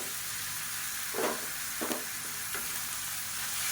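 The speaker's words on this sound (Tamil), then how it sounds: "இந்த தக்காளி நல்லா மசிஞ்சு வர அளவுக்கு வதக்கிக்கலாம்" Tomatoes cook down in a pan with onion for a vegetable gravy, sending up a steady, moderately loud sizzle with a few soft stirring scrapes partway through.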